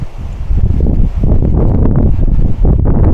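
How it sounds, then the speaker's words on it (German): Loud, strong storm wind roars and buffets the microphone in a continuous low rumble among rocks in the USA, gusting steadily with no voices. "hier oben stürmt es wie sonst was"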